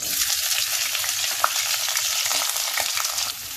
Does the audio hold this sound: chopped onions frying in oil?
yes